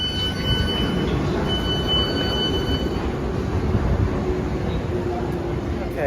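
A train runs toward Putney with a loud, steady rumble of wheels on rails and a faint high whine, heard from inside the carriage with a voice occasionally audible.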